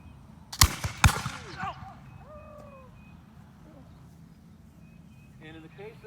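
Two loud, sharp pistol shots crack about half a second apart in a reenacted 1838 pistol duel in Washington, Texas, their echoes fading into outdoor ambience with faint voices.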